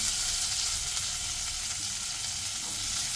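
Capsicum and onion pieces sizzle loudly in a hot kadai, a steady, dense frying hiss with faint low stirring rustles underneath, continuous and close throughout.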